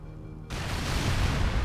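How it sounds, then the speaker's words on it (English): An explosion goes off at a door in a Halo video game: a sudden loud blast breaks over a quiet hum and then settles into a sustained roaring rumble. "there's going to be an explosion right at that door"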